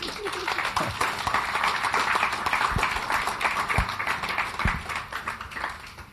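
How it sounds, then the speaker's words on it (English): Audience members applaud the President at a reparations discussion held at a university regional headquarters, dense continuous clapping from a sizable crowd, steady and fairly loud throughout, with a few sharper claps near the front. "Please warm your hands with another round of applause for the President."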